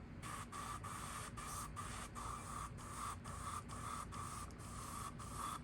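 An airbrush sprays candy paint onto a custom fishing lure in a steady, faint hiss broken by regular short pauses, with a faint constant hum beneath it.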